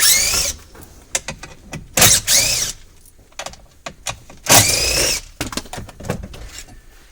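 Screws being backed out of a metal cover plate on a 2012 Town & Country interior, close up: short bursts of a driver whirring alongside scattered clicks and mechanical rattling.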